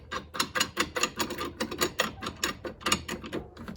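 Rapid ratcheting clicks come from a dent puller attachment being screwed onto the end of a slide hammer, a close, rhythmic metallic chatter of about a dozen quick turns.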